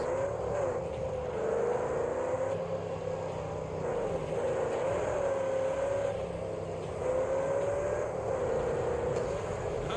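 A car engine in a video game drones steadily for the whole stretch, its pitch swelling and easing as if revving, with continuous background game noise and no voices.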